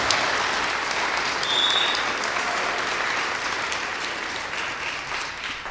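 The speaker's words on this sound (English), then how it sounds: "Please give Maureen a round of applause." An audience at an arts and culture grants event claps for Maureen, the Arts and Culture Director, in steady, full applause that holds for several seconds without any speech.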